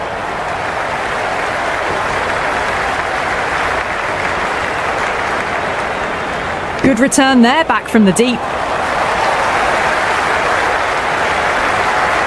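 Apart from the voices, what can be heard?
crowd cheering and applauding in cricket video game Cricket 26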